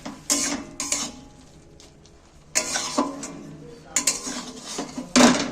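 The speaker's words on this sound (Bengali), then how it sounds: "এবার আমি শাকটাকে একটা থালার মধ্যে ফেলে দিচ্ছি" Boiled spinach is tipped from a cooking pot onto a metal plate, with several clattering metallic knocks and scrapes in separate bursts and quieter handling between them.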